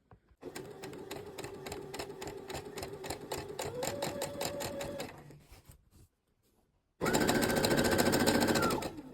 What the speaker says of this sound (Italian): Sto cucendo con una mano